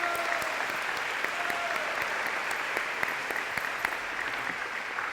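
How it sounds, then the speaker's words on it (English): Steady, sustained applause from an audience at a high school scholarship signing event, honoring the parents, continuing evenly throughout without speech. "So let's give a round of applause to our parents."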